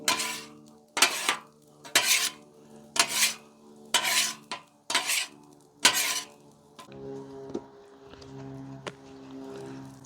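Egg fried rice coated with soy sauce and sesame oil is tossed in an electric chafing dish, giving six loud, evenly spaced scraping strokes against the metal pan, followed by a quieter sizzle.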